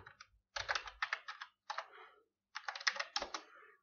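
Quick bursts of typing on a computer keyboard while entering a bookmark name in Word, close and crisp clicking in irregular runs with short pauses, no voices.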